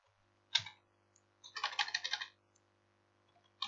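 Keystrokes on a computer keyboard while entering a formula in a spreadsheet, a single tap followed by a quick run of close, crisp clicks and one more tap, alone against a quiet background.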